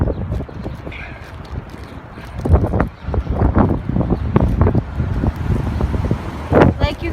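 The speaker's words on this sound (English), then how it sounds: "Like you can probably just hear the wind." Strong wind gusts buffet the microphone outdoors during a windstorm, a close, uneven rumbling roar with irregular bursts, mixed with passing traffic noise.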